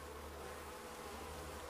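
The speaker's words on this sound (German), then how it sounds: "Und jetzt kommen Bienen rein." Bees buzz in the Android game Hänsel und Gretel as they fly in to lick honey off a front door, a steady close drone with no voices.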